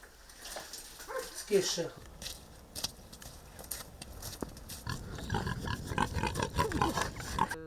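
Pigs on a small eco-farm in the Lviv region grunt and snuffle intermittently at close range, mixed with rustling, clanking and a brief higher cry, fairly faint and busy throughout.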